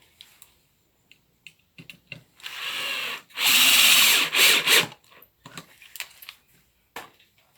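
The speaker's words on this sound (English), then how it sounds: "to reinforce it, I think I will just put some screws in here just to make sure it's completely stable" Power drill driving screws into a wooden picnic bench, with two loud, close whirring bursts of about a second each, the second one stuttering, set between scattered knocks and handling noises.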